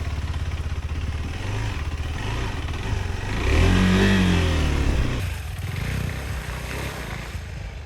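A KTM 390 Adventure motorcycle is ridden off-road, its mid-pitched engine note rising in a rev around the midpoint and easing off again, steady and fairly close with no talking.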